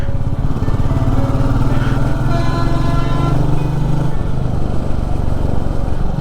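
Royal Enfield motorcycle cruising on an Indian highway, its engine droning steadily and loudly with constant wind rush, with no break in the sound.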